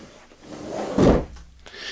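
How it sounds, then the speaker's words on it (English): Storage drawer under a double air bed sofa in a Wildwood DLX 4002Q travel trailer slides with a single soft close thud, near and moderately loud against quiet room tone. "You've got a double air bed sofa with the storage drawer underneath."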